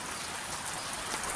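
Steady, continuous rain pours down on a village in Gujarat, a dense, close hiss of drops with no breaks and no talking.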